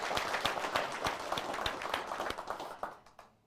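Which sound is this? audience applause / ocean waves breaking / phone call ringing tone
audience applause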